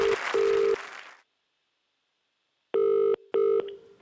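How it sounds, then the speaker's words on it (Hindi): A phone rings back on an outgoing live call to an unknown number: two-part electronic ringback tones, then a silent gap, then two more rings, clear and close with no talk. "ये लाइव फोन कॉल किया जा रहा है किसी अनजान को"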